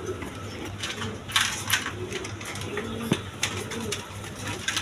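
Male Gobinda cocker pigeons coo repeatedly at close range, low throaty calls rolling in short bursts over a steady background hum, with brief wing rustles.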